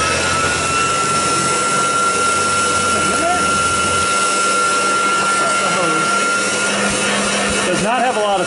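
A vintage GE upright vacuum cleaner runs with a loud, steady motor roar and a thin constant whine, with some wavering tones and brief voices over it near the end.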